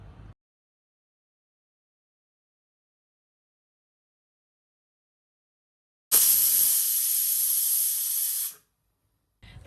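A pressure cooker boiling soaked chickpeas vents steam in one sharp, loud hiss of about two and a half seconds, set between stretches of silence.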